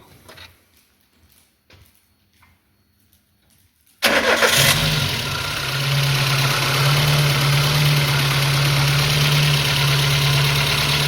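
A VAZ 1118 car with a rebuilt 1.6 cylinder head cranks and fires after a few seconds of quiet clicks, then settles into a loud, steady idle.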